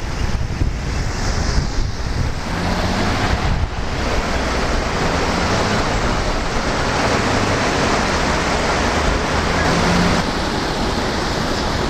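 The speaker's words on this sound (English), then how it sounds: "The Great Falls on New Jersey's Passaic River is the second largest waterfall by volume in the United States east of the Mississippi River." The Great Falls on the Passaic River in New Jersey roar with a steady, dense broadband rush of falling water, loud and continuous throughout with some wind buffeting the microphone.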